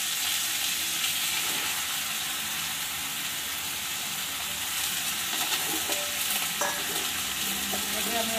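Tomato and onion fry together with bitter gourd and potato in a loud, steady sizzle that runs unbroken throughout, with occasional faint stirring scrapes near the end.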